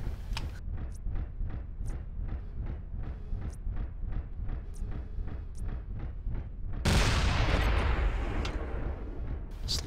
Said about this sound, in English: Just listen to those cannons.